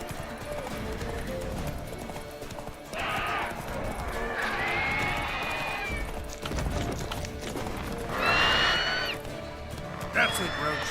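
Roach the horse galloping in The Witcher 3, with rapid, rhythmic hoofbeats across the whole stretch and brief whinnies breaking through now and then, all at a moderate level.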